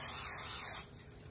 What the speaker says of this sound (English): spray it with your olive oil spray,